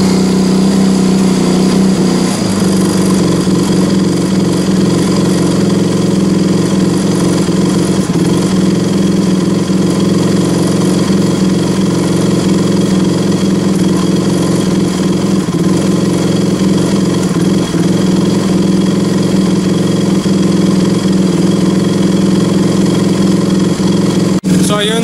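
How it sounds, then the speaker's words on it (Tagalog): A KTM RC 200 motorcycle engine idles too high, near 4,000 RPM, from an oxygen sensor fault. The close, loud, steady drone runs unbroken for the whole stretch. "bali pangit yung idle ng motor, nataas, nababa"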